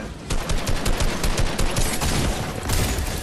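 Rapid, dense shotgun blasts in an arena shooter video game, close and loud, a steady volley of overlapping shots with no voice.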